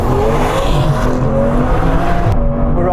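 Aston Martin V12 Vanquish on winter tyres launching hard, its V12 engine roaring loud and close with a steadily rising pitch as it pulls through the gears, a slight tyre squeal under the sustained acceleration.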